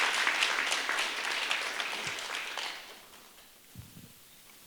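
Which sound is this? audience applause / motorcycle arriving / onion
audience applause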